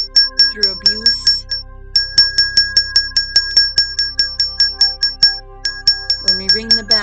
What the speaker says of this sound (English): We will ring the bell for the children